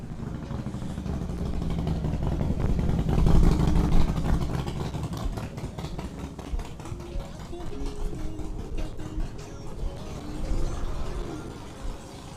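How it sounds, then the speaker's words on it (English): A loud motorcycle passes, its low engine rumble swelling to a peak and then fading into a steadier, lighter drone. "especially when loud motorcycles go by"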